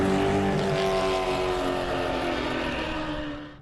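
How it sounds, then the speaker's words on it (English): Car engines in the Mad Max video game roar in a loud, sustained, throaty drone that holds steady and then fades slightly at the end, with no voices over it. "the engines roar like the beasts you'd expect"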